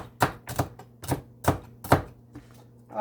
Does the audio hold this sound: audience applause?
no